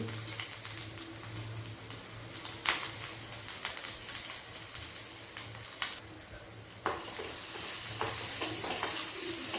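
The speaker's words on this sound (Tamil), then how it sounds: "அதுக்கப்புறம் நம்ம அந்த கேரட்டையும் போட்டுருவோம் எல்லாம் சிம்மில் தான் வச்சுருக்கேன்" Carrot and ginger with mustard and cumin seeds frying on low heat for green gram sundal, a steady close sizzle with occasional sharp spatters and stirring scrapes, no talking.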